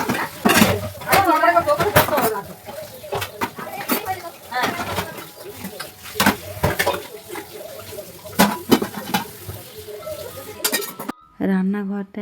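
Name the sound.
washing dishes, pots and pans in the kitchen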